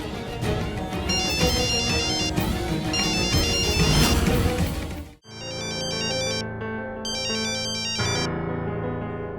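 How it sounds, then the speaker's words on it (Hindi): A phone ringtone plays loudly and continuously as a repeating electronic melody, switching to a brighter, higher chiming pattern midway, with no voices over it, set against a TV drama scene. "फोन बज रहा है, उठा क्यों नहीं रही है?"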